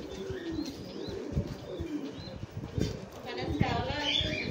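Pigeons in a loft, including lakkha and yellow-tail birds, give soft cooing and chirps along with scattered fluttering and rustling. A person talks over the steady background of the birds.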